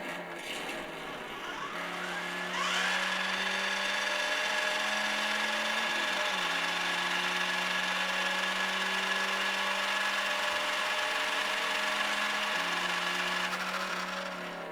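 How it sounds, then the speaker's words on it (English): A Mattel Ultimate Batmobile Justice League RC toy car plays its electronic engine rev sound, a steady synthetic whine that kicks in and climbs after a couple of seconds, holds at a constant pitch, then dips near the end. "You can kind of rev the engine."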